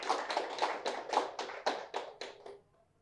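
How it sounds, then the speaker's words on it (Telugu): At a birthday celebration, an audience claps loudly in an even, rhythmic beat of about ten sharp claps, close and strong, which then stops abruptly into near silence. "గట్టిగా చప్పట్లు కొడతాం"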